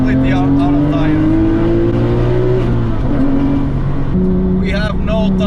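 Porsche GT3 on worn-out tires sliding after donuts: a loud engine revving and droning through shifting pitches, with tire and road noise and voices talking over the car.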